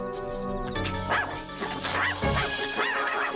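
Balloon dog from the film Killer Klowns from Outer Space, yipping and barking in quick, squeaky bursts over a busy, tonal music-and-effects background, fairly loud and continuous.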